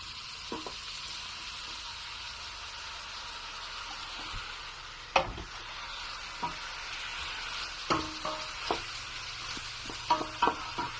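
Tas kebab with large chunks of tomato being stirred in a hot pan, a steady sizzle running throughout with scattered clacks and scrapes of the spoon against the pan.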